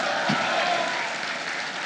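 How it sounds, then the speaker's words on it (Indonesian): A crowd at a political campaign rally breaks into brief, steady applause, a dense wash of clapping lasting a couple of seconds. "Tepuk tangan"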